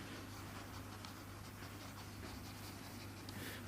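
Writing on a board being erased during a math lesson on linear and quadratic inequalities: a steady, continuous rubbing scrape that runs unbroken from start to finish over a low hum, with no talking.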